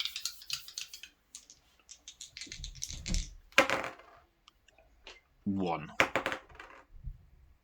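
Two white dice rolled in a Walking Dead All Out War tabletop miniatures game, giving a few sharp clattering bursts of plastic on a table between bits of nearby talk.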